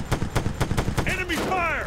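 Enemy gunfire in the video game ARMA 3, a fast series of sharp, evenly spaced shots followed by a short voice with a rising, whooping tone over the end of the firing.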